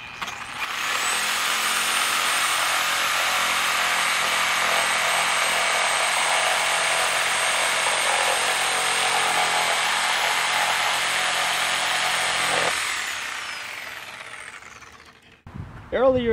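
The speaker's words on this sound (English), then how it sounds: "Now let's test out the Milwaukee Sawzall." A Milwaukee Sawzall reciprocating saw, run from a LiFePO4 portable power station, cuts for about twelve seconds as a loud, steady, close buzzing whine, then winds down and stops, with a brief noise at the end.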